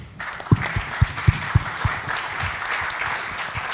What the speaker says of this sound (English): Well, give us a round of applause.